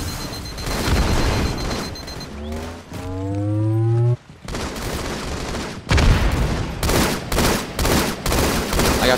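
Gunfire rattles through a Minecraft capture the flag match in repeated sharp bursts and booms, broken by a rising tonal game effect partway through, with dense impacts toward the end.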